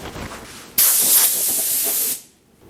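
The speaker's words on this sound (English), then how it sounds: "and we'll spray on the first coat." A Fuji T70 spray gun fed from a 2-quart pressure pot sprays Sherwin Williams Emerald urethane paint onto cabinets: a loud, close, steady hiss that starts abruptly, holds for over a second and cuts off.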